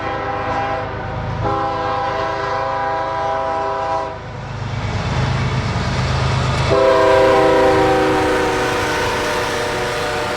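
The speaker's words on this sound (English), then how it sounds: "It wasn't long before another manifest headed north past the chassis system caboose." A northbound manifest freight train rolls past a caboose, blowing two long horn blasts separated by a pause, over a steady rumble of rail cars that swells louder toward the end.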